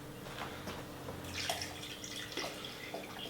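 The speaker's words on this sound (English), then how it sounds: "I use that chicken stock to continue filling this pot so that I have a" Chicken stock is poured into a pot to make a turkey brine, a soft trickling splash with scattered drips and small bursts of liquid, close and moderately quiet.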